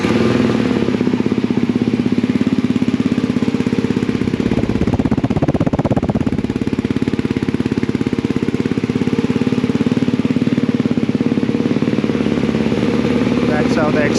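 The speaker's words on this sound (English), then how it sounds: "That's how the exhaust sounds like." A Ducati Hypermotard 698 Mono single-cylinder motorcycle idling up close, its exhaust putting out a loud, steady, throbbing rumble that stays constant throughout.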